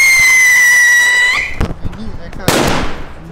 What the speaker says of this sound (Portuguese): não vai explodir a bomba ali